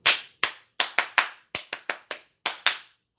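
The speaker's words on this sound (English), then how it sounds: "How did I forget my clap again?" Single pair of hands clapping alone, about a dozen sharp, close, dry claps in an irregular rhythm with brief silences between, each clap decaying quickly.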